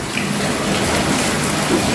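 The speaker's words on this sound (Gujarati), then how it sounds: "જોરદાર વરસાદ થઈ ગયો છે" Heavy rain pours in a dense, loud, steady wash of hissing water with no breaks, close by and unbroken.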